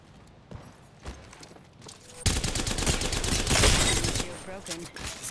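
A video-game gun fires in a dense, rapid burst of shots that suddenly erupts after a few quieter moments and stays loud and sustained, with a voice talking over it.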